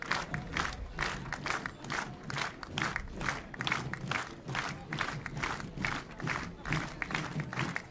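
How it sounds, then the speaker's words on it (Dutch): A parade group at a children's festival procession enters to applause keeping time with the drummers' beat. Rhythmic, evenly pulsing bursts mix with crowd noise, fairly faint and distant. "Komen met applaus binnen op het ritme van de trommeldragers."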